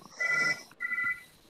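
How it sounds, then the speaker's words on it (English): A cordless phone rings with two bright electronic trill bursts separated by a brief gap, fairly loud and close, with no talking over it. "I have a theory. It's a cordless phone"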